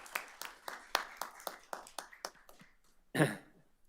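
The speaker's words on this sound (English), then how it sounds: "Round of applause for Becky." Applause at a borough council meeting: a short, fairly sparse round of clapping from a small group in a meeting room, fading out before one louder, sharp sound near the end.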